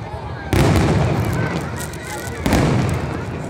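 Loud fireworks explode at SeaWorld, two heavy booms about two seconds apart, each followed by a rumbling crackle that fades, with voices in the crowd around them.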